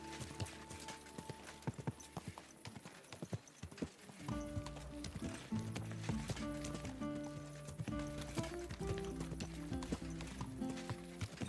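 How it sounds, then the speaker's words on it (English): Horse hooves clip-clop steadily in Kingdom Come: Deliverance 2, with an occasional whinny, set against a musical score that swells in partway through. "Easy, good horse."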